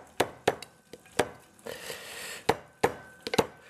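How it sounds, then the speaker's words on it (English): Garlic cloves are crushed under the flat of a knife on a board, giving a series of sharp thumps and knocks, close and fairly loud, spaced irregularly with a brief scraping stretch between. "So I leave it a couple of more minutes while I crush my garlic."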